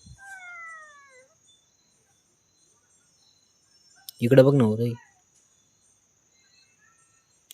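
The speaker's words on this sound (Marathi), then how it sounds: "मांजर म्याव म्याव म्याव म्याव करते" A single short meow sounds close by, preceded by a faint chirping call, with long stretches of near silence between.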